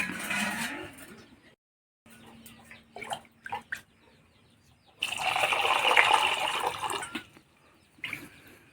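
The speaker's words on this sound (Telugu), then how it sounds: "వాటర్ వేస్తున్నా" Water gushes into a cooking pot of jackfruit seeds in two bursts, a splashing pour that stops, then returns louder for a couple of seconds, with faint clatter between.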